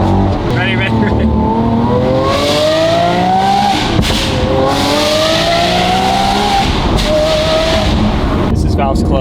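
A Lamborghini Aventador Ultimae with its valvetronic exhaust valves closed revs loudly and close by, its engine note climbing in several long sweeping pulls with brief breaks between them, and a voice speaks over it.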